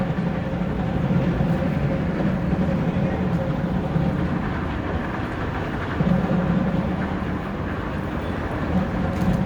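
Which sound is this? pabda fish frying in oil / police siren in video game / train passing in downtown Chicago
train passing in downtown Chicago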